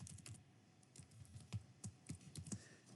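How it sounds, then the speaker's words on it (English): A computer keyboard clicks under a password being entered, giving a quiet, irregular run of close keystrokes with no one speaking. "I'm just going to type in my password"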